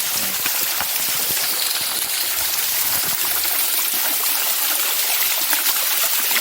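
Small waterfall spilling over rocks into a pool: a loud, continuous broadband rush and splash of falling water, steady throughout, close by, with no talking.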